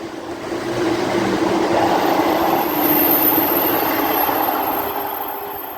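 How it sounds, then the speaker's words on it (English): A ScotRail Class 170 diesel unit passing through North Queensferry station, a loud rumbling roar that swells and holds as it runs by, with a high whine above the rolling noise. "Now passing through is a ScotRail Class 170."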